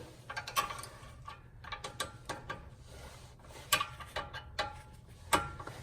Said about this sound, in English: take your 14mm wrench, start with the opened end to get it started